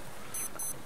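An electronic alert in the survival game Stranded Deep sounds as two short, high double beeps over faint background ambience.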